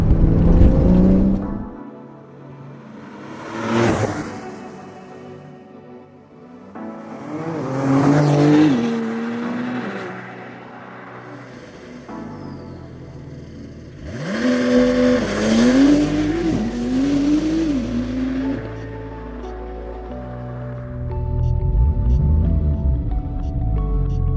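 A 2021 Porsche 992 Turbo S accelerates hard in several bursts, its engine note climbing in pitch through repeated gear shifts, with brief tyre noise and loud, close roaring between quieter pauses.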